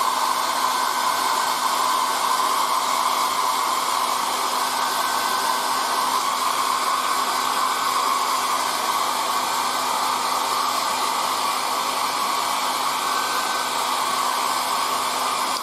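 A hair dryer set to low blows steadily on freshly applied decals on a Whippet model, a continuous close whoosh that holds even and unbroken throughout with no voices.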